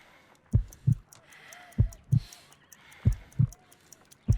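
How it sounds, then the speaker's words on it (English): Slow heartbeat in the Sherlock Holmes: Crimes & Punishments video game, weak pulse around 50 beats per minute: three close lub-dub pairs, deep and thumping, evenly spaced with soft ambient game tones between. "I need to concentrate and count the heartbeats."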